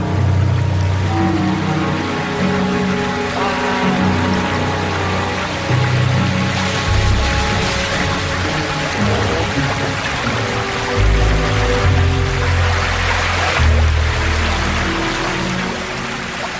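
Rushing water at a waterfall on a grizzly bear river, with a steady broadband roar of tumbling flow and splashing that stays loud and close throughout, with no voices.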